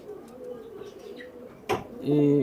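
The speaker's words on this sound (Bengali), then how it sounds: "এই মাদি কবুতর এইটা" Indian and Pakistani high-flying pigeons at a farm give a few low, soft coos close by, with people talking around them.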